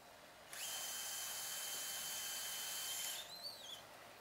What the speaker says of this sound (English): now we want to go ahead and drill for our push lock